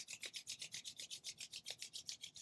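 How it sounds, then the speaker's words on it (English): Two palms rub briskly together in a steady back-and-forth rhythm, about six strokes per second, close and soft with no voices. "bring your hands together and start rubbing them"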